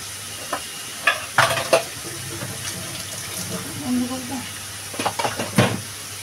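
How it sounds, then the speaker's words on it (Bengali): Water lily stems fry with prawns in a pan, a steady background hiss with several sharp clinks and scraping knocks of a utensil, plus faint low murmurs. "এইভাবেই এবার ভাজা হতে থাকবে।"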